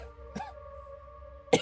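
Two sharp coughs, one early and one near the end, with quiet between them. No one speaks.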